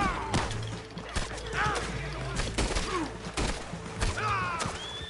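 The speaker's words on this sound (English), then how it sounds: "who else is shooting?" Gunfire in the video game Red Dead Redemption 2, a rapid series of sharp cracking shots at irregular intervals, some near and loud, others echoing, amid whistles and background game noise.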